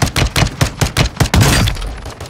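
Handguns fire in Warzone 2.0, a rapid volley of about seven loud, sharp shots followed by a denser burst before it tails off.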